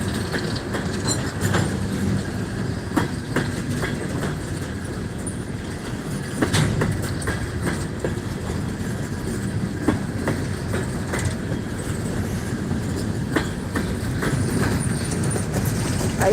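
A freight train rolls past trackside at Mount Hope, West Virginia, a steady close rumble with continuous clickety-clack of wheels over rail joints and occasional faint squeals, lasting throughout without talk.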